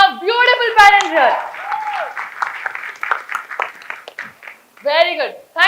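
Parents at a school talk applaud together while a presenter keeps speaking over them: a scattered, moderately loud burst of clapping between loud, close stretches of voice.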